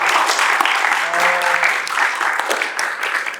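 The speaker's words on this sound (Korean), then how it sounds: "야, 우리 박수 한번 보내주세요." Audience applause at a Korean youth talk concert about first-time voting, a dense sustained clapping that fills the room evenly throughout, with faint voices and a brief tonal murmur mixed underneath.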